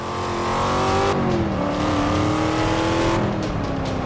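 Chevrolet Camaro race car engine in Forza Motorsport 5, loud and sustained, revving and shifting pitch as it accelerates, with a gear change partway and faint tire noise.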